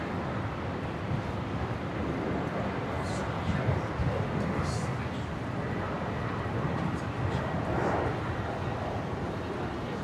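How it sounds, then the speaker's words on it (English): A QantasLink Embraer jet bound for Adelaide takes off from runway 01 right at Brisbane, giving a continuous, moderately distant engine rumble with a few faint high whines over it. "Qantas Link 1935 just about to rotate here."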